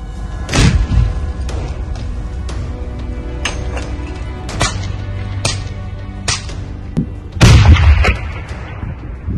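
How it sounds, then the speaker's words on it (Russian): Several sharp gunshots ring out at uneven intervals during a storming of a dugout in Mariupol, two especially loud booming blasts with echoing tails among lighter distant cracks. "Выстрел."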